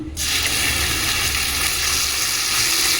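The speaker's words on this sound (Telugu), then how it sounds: "ఇప్పుడు మనం పోపులో పప్పును వేసుకుందాం" Chana dal tips into a hot tempering of oil and spices, bursting into a loud, continuous close sizzle that holds steady throughout with no talk.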